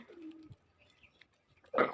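Pigeons cooing in a loft during the cold season: one low, drawn-out coo near the start, then quiet, then a brief louder burst of close bird sound at the end.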